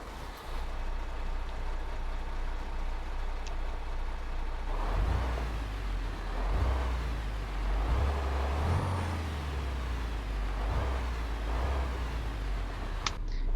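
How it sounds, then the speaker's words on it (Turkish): In Euro Truck Simulator 2, a MAN TGX 2023 with a D2676 engine sound mod starts up after a quiet stretch, then settles into a low, throbbing diesel idle with soft pulsing swells, fairly quiet overall. "D2676 motorun gerçek sesini paylaşmışlar."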